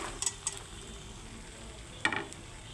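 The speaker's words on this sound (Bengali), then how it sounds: "এবারে আমি ঝিঙেগুলো দিয়ে দিচ্ছি" Ridge gourd stir-fried in a pan gives a faint, steady sizzle, broken by a couple of sharp clinks of a spatula against the pan, with no talk.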